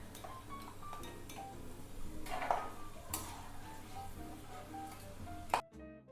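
Pots and utensils clatter while almonds and cashews fry in oil for sugar-free dry fruit laddoos, with a steady sizzle underneath and sharp metallic knocks and scrapes, one louder clank near the end.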